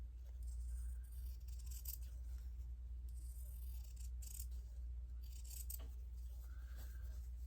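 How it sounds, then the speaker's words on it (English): Scissors trim fabric for a sewn heart garland in quiet, brief snips and rustles spread across the clip over a low steady hum, with no talking. "I'm just going to trim."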